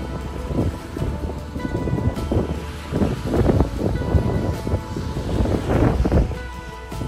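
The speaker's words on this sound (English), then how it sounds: "There's the beach." Ocean surf washing onto a beach at Falmouth, a steady roar of breaking waves with gusts of wind buffeting the microphone, rising and falling in several swells across the stretch.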